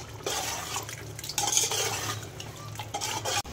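Masala and curd being stirred and roasted in a pot for mutton biryani, with continuous scraping and clinking of a spoon against metal and a faint sizzle underneath.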